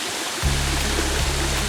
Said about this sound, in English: we got to the waterfall